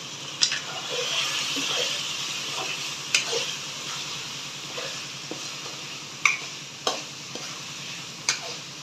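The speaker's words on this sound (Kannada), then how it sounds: "ಟೂ ಮಿನಿಟ್ಸ್ ಫ್ರೈ ಆಗಬೇಕು." Chicken curry with salt and coriander powder frying in a pan for a palak chicken dish, a steady sizzle under repeated scraping stirs and occasional sharp clinks of the spoon against the pan.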